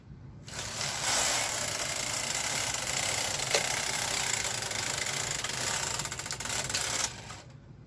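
A knitting machine works both needle beds on a jacquard blanket, making a sustained mechanical whirring and clattering pass that starts abruptly, runs steadily for about six seconds, and stops. No one speaks.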